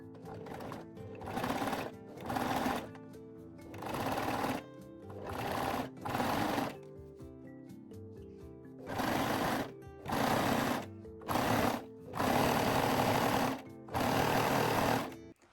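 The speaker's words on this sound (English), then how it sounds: "you can use a zigzag or 3-step zigzag stitch on a regular sewing machine" A regular sewing machine runs a zigzag stitch, sewing elastic onto bralette lingerie fabric in about ten close, loud bursts of rapid stitching separated by short pauses.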